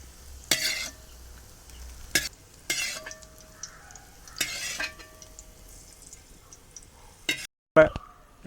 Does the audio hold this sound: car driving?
no